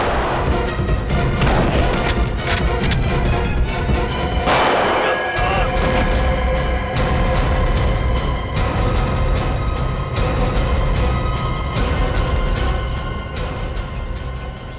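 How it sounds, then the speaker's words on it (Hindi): A dense, chaotic burst of gunfire and crashing impacts in a TV crime drama scene, a gunman shooting at a fleeing girl, over a loud rumbling background, with a sharp cluster of shots around the middle. "बच्ची पे गोली चलाता है।"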